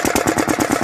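A heavily smoking engine that struggles to pick up speed runs with a fast, even, chugging pulse, loud and close, with no voices.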